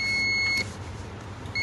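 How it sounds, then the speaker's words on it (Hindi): A circuit tester held to the pins of an IC base from a cassette air conditioner gives a steady electronic beep lasting about half a second, then a brief second chirp near the end, close and clear. "देखिए बीप किया"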